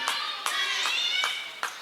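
Scattered clapping from a crowd at a men's college basketball game in a pavilion, several sharp bursts of applause at intervals over a steady murmur of arena noise.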